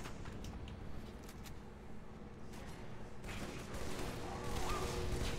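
Halo 3 gunfire crackles faintly in scattered volleys, sounding distant and low in the mix, with the shots thickening slightly toward the end.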